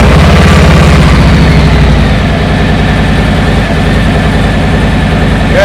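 A Harley motorcycle engine idles loud and close in neutral with the clutch held in, a steady low rumble with an uneven pulsing beat that holds for the whole stretch.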